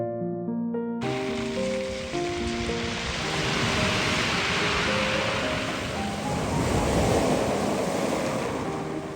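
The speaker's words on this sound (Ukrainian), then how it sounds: "Ось вам трохи шум ламаншу." Surf of the English Channel washing onto the Normandy coast, a steady broad roar of breaking waves that swells and eases over several seconds, with some wind buffeting the microphone and a brief melodic tone at the very start.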